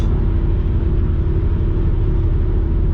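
A Dodge Viper's engine rumbles deep and loud at close range, a continuous heavy low drone with no voices.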